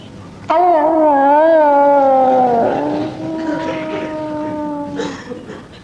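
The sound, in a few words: voice imitating a hound howling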